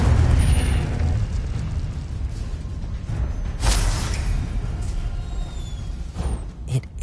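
An Incendio fire spell bursts in Hogwarts Legacy, a loud whooshing blast with rumbling low end, a sharp flare midway and crackling flame tails, with no talk.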